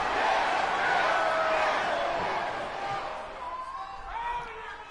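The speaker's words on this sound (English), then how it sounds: "Crowd excited" Crowd cheering in the WWE 2K19 wrestling game as Daniel Bryan heads to the ring: a loud, steady arena roar that eases slightly toward the end, with voices blended into the din.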